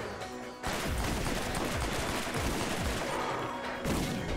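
Rapid bursts of weapon fire in the Borderlands shooter, a dense, loud barrage running almost continuously with brief gaps at the start and near the end.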